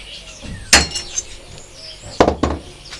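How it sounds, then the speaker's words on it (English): A hammer striking a centre punch to pierce metal for a lantern: a few sharp, close metallic taps, one early and a quick pair later, over a quiet room. "All you need for this bit is a centre punch and a hammer."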